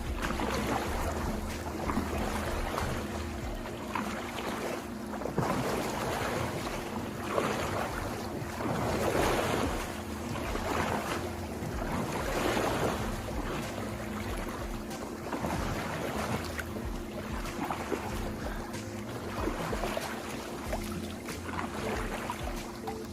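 Hands pushing and sloshing water during a water cardio workout in a pool, repeated swells of splashing and churning at a rhythmic pace, fairly close, with no talk.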